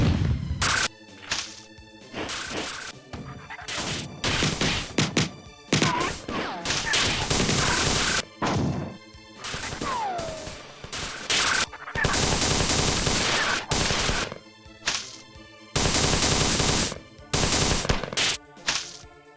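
Rocket launcher firing in the Marathon video game, loud repeated blasts and bursts of gunfire in rapid clusters with short gaps, plus in-game effects.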